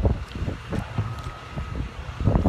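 Strong wind at the beach buffets and roars across the microphone in loud gusty bursts, with a rumbling low wash and a faint steady tone underneath.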